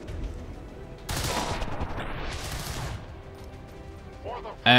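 Burst of gunfire in the tactical strategy game XCOM 2, a dense noisy volley lasting about two seconds over a steady game soundscape, followed by a sharp loud hit at the end.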